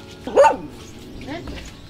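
Dogs bark once or twice near the start in a rural mountain home in El Salvador, a short burst over quieter background, with a voice speaking Spanish around it.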